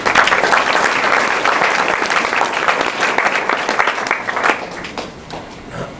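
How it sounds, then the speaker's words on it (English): An audience at a business presentation breaks into loud, sustained applause, many hands clapping at once before the sound thins out toward the end. "So you should give yourselves a round of applause."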